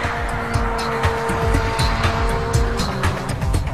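A high-performance car engine roars under load, with rapid revving and a throaty growl, close and loud throughout, alongside faint tire squeal and no voices.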